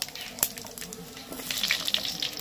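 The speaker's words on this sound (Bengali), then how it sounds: "এবার এই তেলের মধ্যে দিয়ে দিচ্ছি 5 ফোড়ন আর সজনে ডাঁটা আর আলু।" Potatoes, drumstick pieces and panch phoron hit hot oil in a pan, giving a bright, splashy sizzle that starts with a sharp burst and builds into steady crackling frying, close and fairly loud with no talking.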